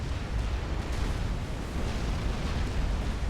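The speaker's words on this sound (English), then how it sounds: "Seraphim T2 artillery causing no end of problems there for Farmschlet" Seraphim T2 artillery fire and explosions in a Supreme Commander match, a dense, continuous rumble of booming blasts and bursts that stays steady and loud throughout, with no distinct gaps between impacts.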